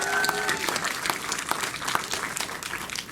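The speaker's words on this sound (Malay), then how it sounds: "Berikan tepukan gemuruh buat mereka." An audience at a drama series preview event applauds the production team with lively, crackling clapping that starts right after a brief voice and carries on with uneven swells.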